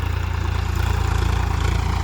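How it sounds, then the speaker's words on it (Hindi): Swaraj 855 FE tractor engine running in high gear, a steady, close, low throbbing drone with an even pulse throughout. "अब देखो ये ट्रैक्टर है, दूसरे का हाई में चल रहा"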